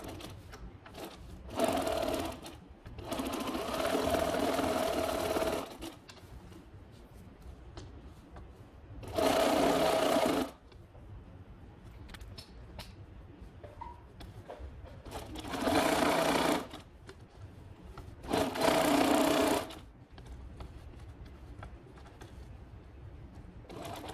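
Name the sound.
sewing machine stitching drapery hem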